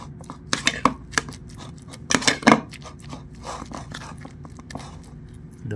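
A spoon scrapes and taps in a bowl as cracked eggs are stirred into potato, giving irregular clinks and short scraping strokes of uneven loudness, with a few louder knocks near the middle.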